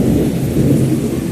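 Thunder rumbling during heavy rain, a loud, continuous low roar with steady rain noise over it, no voices.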